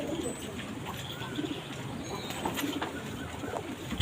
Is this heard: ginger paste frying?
no